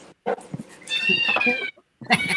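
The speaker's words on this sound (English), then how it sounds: "That's a cat with an attitude." A house cat lets out drawn-out, complaining meows, two loud close yowls with short gaps and a brief scuffle between them.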